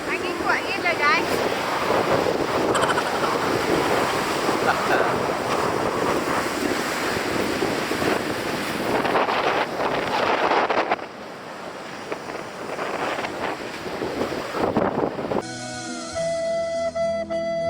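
Strong waves and gusty wind at the beach across from Seberang Takir in Kuala Terengganu, a loud, close roar of surf with heavy wind rumble on the microphone, easing near the end as music fades in.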